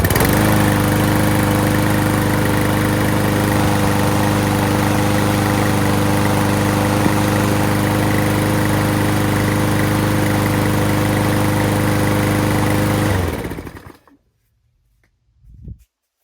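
A lawn mower engine idles steadily and loudly up close for about thirteen seconds with a constant low rumble, then cuts off abruptly, leaving near silence followed by a faint brief rustle.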